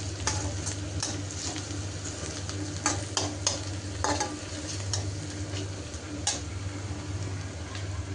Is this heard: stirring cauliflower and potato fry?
yes